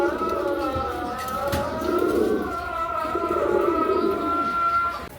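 White racer pigeons coo in a steady, throaty burble close by, with overlapping rolling calls throughout and a sharp click partway through. There is no talk.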